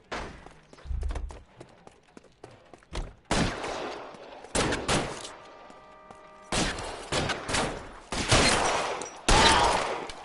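Gunfire in the video game L.A. Noire: scattered sharp shots build into heavy rapid bursts and volleys, loud and close, with dull thumps between them and no talking.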